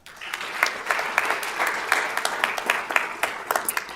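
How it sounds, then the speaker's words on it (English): An audience at a school board meeting applauds, a short spell of scattered claps building to steady clapping that carries on throughout. "give his round of applause"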